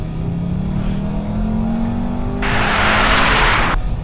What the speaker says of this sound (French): Allez, boîte séquentielle en mode sport et on se laisse aller sur la pédale des gaz.